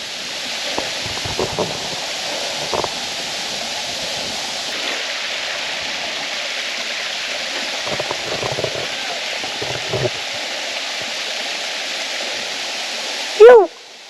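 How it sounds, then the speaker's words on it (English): A waterfall at a clear-water swimming spot sends up a steady, continuous rush of falling water. A few soft knocks and a brief sharp sound come near the end. "to the waterfall"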